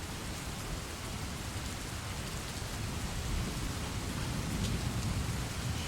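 Steady heavy rain drums on a surface, a dense, loud hiss filling the whole stretch with a slight swell toward the end, no voices over it.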